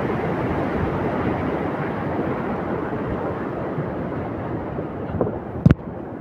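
A mountain river rushes steadily along a rough stretch of the Annapurna Base Camp trek, making a broad, continuous roar close by, with a brief sharp knock near the end.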